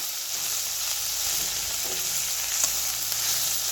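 Bitter gourd and tomato cook in a pan for a spicy karela bhaji, making a steady close sizzle with faint stirring scrapes, uninterrupted and with no one talking.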